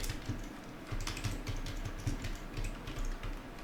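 Fingers tap out a password on the keyboard of a Lenovo IdeaPad Slim 3 Chromebook: a quick, fairly even run of light, close keystroke clicks with no talking.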